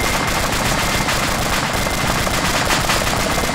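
Sustained automatic gunfire in an Arma 2 military firefight, a dense, continuous rattle of rapid shots at steady loud volume with no pauses, no voices over it.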